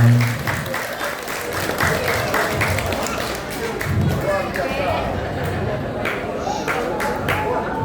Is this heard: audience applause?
yes